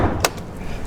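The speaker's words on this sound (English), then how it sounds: "I'll pop the trunk" The trunk lid of a Bayside blue Nissan Skyline GTR R34 pops open with a single short, sharp click up close, heard alone over a faint low background rumble.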